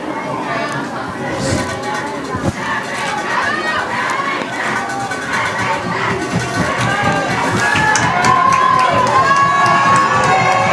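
A high school football crowd at a WIAA state semifinal between Mondovi and Edgar cheers and shouts continuously, a dense roar of many voices with whistles and yells that swells louder near the end, with an announcer talking over it.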